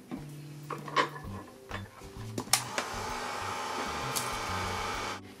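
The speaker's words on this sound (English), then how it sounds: "now I'm going to dry this up with my heat tool" A heat tool dries gesso on a burlap panel, its steady blowing whoosh rising after a few knocks and clatters of handling at close range, with no one talking.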